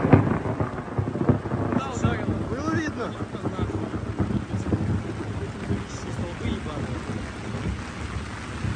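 A thunderstorm: heavy rain patters steadily on surfaces while low thunder rumbles throughout, with excited voices talking over the downpour.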